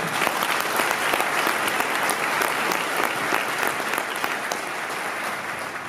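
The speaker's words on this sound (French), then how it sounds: "Vous pouvez tous, encore une fois, les applaudir." Sustained applause from a large crowd at an association's annual general meeting in Brittany, dense and even throughout, fading slightly toward the end.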